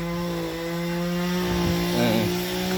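A saw runs steadily at a strawberry market in Elbląg, a constant droning whine that holds near and fairly loud throughout with no talking.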